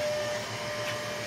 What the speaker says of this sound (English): the robot will energize and the auger will start spinning to push the media down